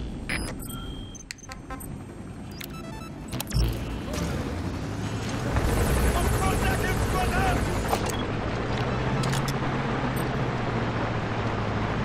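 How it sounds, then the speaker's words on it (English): A support helicopter in Metal Gear Solid V drones with a low, rising rotor and engine rumble that swells and then holds steady, with voices and game sounds over it. "Support helicopter requested."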